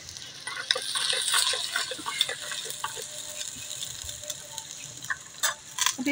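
Garlic sizzles in a hot pan while it is stirred, with scraping and clinks during outdoor cooking in rainy weather in Neelum Valley, Kashmir, Pakistan, giving fairly quiet, crackly frying throughout.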